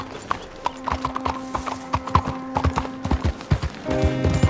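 Rhythmic clip-clop of horse hooves in Red Dead Redemption 2, close and steady, with a brief whinny and other game sounds toward the end.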